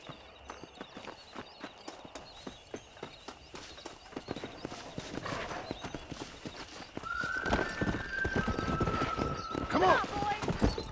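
Horse hooves clip-clop in Red Dead Redemption, steady and close, quickening into a faster gait, with a horse whinnying partway through and voices talking underneath.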